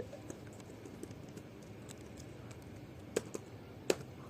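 Faint, soft keystrokes on a computer keyboard patter irregularly at close range, with a few sharper key presses standing out near the end and no voices.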